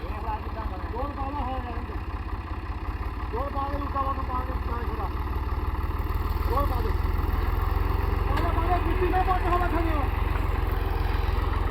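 Tractor engine running steadily in a field while soil is worked, a constant low drone throughout, growing slightly louder in the second half, with people talking over it.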